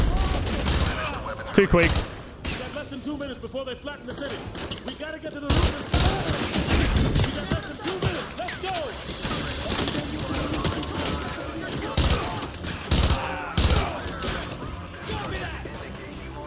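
Repeated bursts from a Vector submachine gun in Call of Duty Modern Warfare 2 Remastered, rapid volleys recurring loudly throughout amid other battle noise, with someone talking over them.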